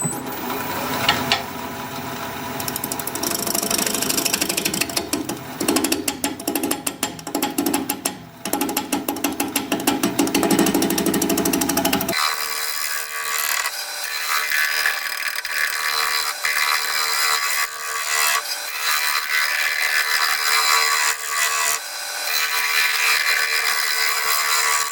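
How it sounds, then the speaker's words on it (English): A wood lathe spins a juniper vase at 750 RPM while a large spindle gouge cuts it, giving a loud continuous scraping, tearing roar that changes abruptly halfway into a thinner, hissing cut with steady rumble. "we'll grab this big Herkin spindle gouge, and we'll be turning at 750 RPM"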